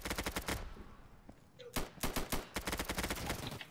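Dense bursts of automatic gunfire from an Insurgency match, rapid repeated shots crackling across the whole span with a brief lull in the middle before more volleys, loud and close.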